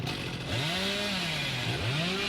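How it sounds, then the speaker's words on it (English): A revving chainsaw from Billy, the killer in the horror video game Dead by Daylight, on the Black Water Swamp map, its engine pitch rising and falling in a continuous loud drone. "Uses the chainsaw to close the distance."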